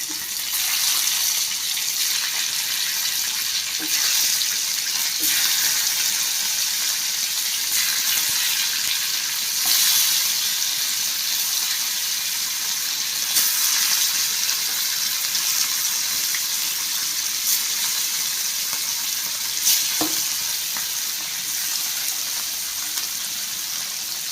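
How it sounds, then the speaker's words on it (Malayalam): Pieces of dried manthal fish sizzle steadily in hot coconut oil, a constant bright hiss and crackle that continues unbroken, with occasional sharper pops. "വെളിച്ചെണ്ണ ചൂടായിട്ടുണ്ട് ഇനി ഇതിലേക്ക് ഈ നുറുക്കി വെച്ചിരിക്കുന്ന മീൻ കഷ്ണങ്ങൾ ഓരോന്നായിട്ട് ഇങ്ങനെ ഇട്ട് കൊടുക്കാം"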